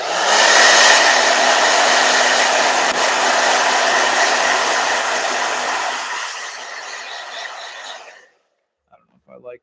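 A blow dryer roars steadily at close range while drying a gouache painting, a loud continuous whoosh that fades and cuts off near the end, followed by faint small clicks.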